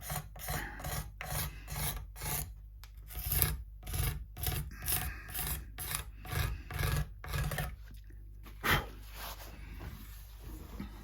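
A steel blade scrapes along a Telecaster-style partscaster guitar part in steady, close strokes, a rhythmic rasping repeated about a dozen times with short pauses, no talking.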